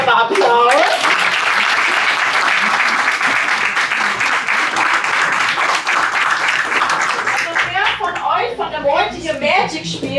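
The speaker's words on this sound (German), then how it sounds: "einmal Applaus" Audience applauds at the grand reopening of a local game store, loud dense clapping filling most of the stretch before tapering off as voices and chatter rise near the end.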